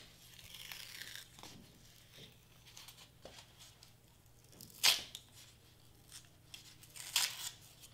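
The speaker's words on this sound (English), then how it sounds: "I'm hoping to kind of just rip this off because there's glue right there" Glued paper craft pieces crinkle and tear as they are ripped apart, with soft rustling throughout and two sharper ripping bursts, close and quiet, without talk.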